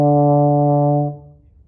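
A single sustained D sounds on a baritone horn, a warm, full brass note held steadily for about a second before fading out, played alone and close.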